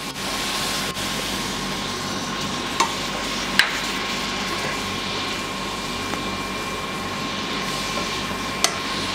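A steady broadband sizzle of tamarind juice frying in a hot pan, with a few faint clicks, no talking.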